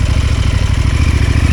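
A KTM 790 Adventure S twin-cylinder motorcycle engine runs close up with a steady, pulsing low throb and slight clatter, pulling away uphill with even power and no voices.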